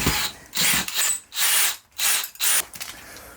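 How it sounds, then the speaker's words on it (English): A 12 mm drill bit bores into a metal part held by a vise grip while making supermoto stunt pegs, producing about six short, loud, grinding bursts of drilling with brief gaps between them, close and with no speech. "12 mil drill."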